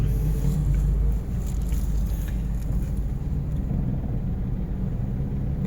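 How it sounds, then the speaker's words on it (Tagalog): Traffic jam on A.S. Fortuna Street in Mandaue City, Cebu: a steady low rumble of idling and creeping vehicles, with a slightly louder swell at the start that settles into a constant muffled drone. "There is a traffic jam"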